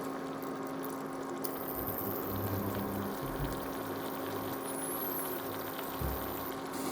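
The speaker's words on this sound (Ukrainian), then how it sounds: "Я додаю воду, щоб краще протушкувати овочі." A glass of water is poured into a pan of zucchini stewing with hake. The splash and hiss stay steady and fairly quiet for the whole stretch, with no voices.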